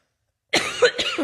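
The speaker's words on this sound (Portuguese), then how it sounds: "Estou com uma tosse hoje" A short burst of coughing close to the mic after a moment of silence, two or three rough hacks in quick succession.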